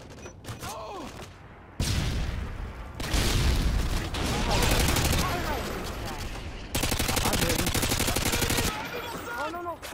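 FAMAS rifle fire in a first-person shooter, with repeated loud automatic bursts close up, broken by brief pauses and set against game sounds and speech.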